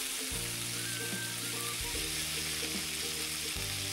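Garlic and corned beef sizzle steadily in a hot pan, a dense broadband crackle with low stirring thumps at a slow, uneven rhythm, close and continuous with no talk.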